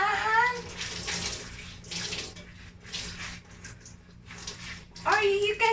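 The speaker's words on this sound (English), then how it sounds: "I'm gonna rinse the cloth, the dirty cloth or basahan" A dirty kitchen cloth is rinsed in a basin of water, with repeated close sloshing and splashing bursts that rise and fall. Brief voice sounds come at the start and near the end.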